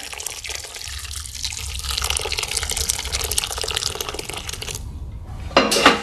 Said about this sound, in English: on top of this sunshine yellow mixture, I want just under 1 litre of water